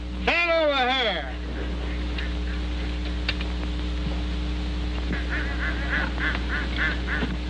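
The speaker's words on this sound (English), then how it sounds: "Those ducks are throwing me off." Waterfowl near a golf course give a loud burst of honking calls at the start, then fainter scattered honks repeat in the background while people talk.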